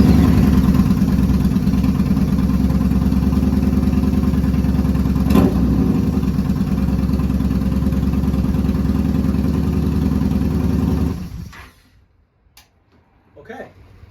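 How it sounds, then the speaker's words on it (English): A 2014 Yamaha Bolt 950cc motorcycle engine runs at a steady, loud idle for about eleven seconds, then cuts off abruptly, leaving near silence with a few faint clicks. "I'm going to start the bike"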